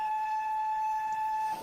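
Steam locomotive whistle on a heavy freight train, one long steady tone sounding loud and unbroken for over a second and a half, then cutting off.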